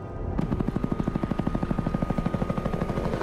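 Helicopter from the video game Hitman Absolution, a steady rapid rotor chop pulsing loud and close throughout, with a low engine rumble beneath.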